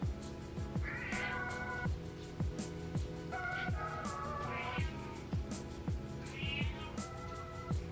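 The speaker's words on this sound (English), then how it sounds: "I don't know if you can hear the cat, but she's just sauntering around my desk, meowing" A cat meows repeatedly, several drawn-out rising and falling calls spaced across the clip, fairly close, over a steady low background hum.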